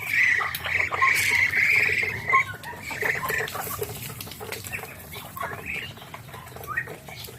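Two-month-old turkey poults peep and chirp in a busy chorus, high shrill calls overlapping with soft rustling and pattering nearby.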